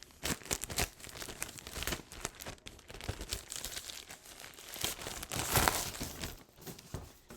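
Crinkly plastic packaging of a beach swim bag being opened, with irregular crackling and tearing bursts throughout, close and fairly quiet, strongest near the end.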